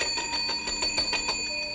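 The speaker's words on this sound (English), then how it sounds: "They won't hear that bell" An old western town's night bell rings in a fast, steady run of bright metallic strikes with a lingering shimmer, loud and continuous, with no voices.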